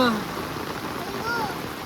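Heavy monsoon rain pours down in the Konkan region during the Ganpati festival, a dense, steady hiss of falling water close around, with brief voices heard over it.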